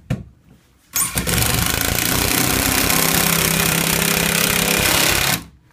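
A drill or impact driver sinks a screw into a wall stud while a bike rack is mounted, with a short burst followed by a loud, sustained rattling whir for about four seconds, close up, then it stops.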